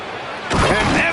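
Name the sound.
slam dunk by Anthony Edwards in NBA 2K26 video game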